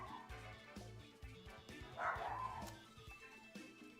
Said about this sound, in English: Yo, my dog is now barking.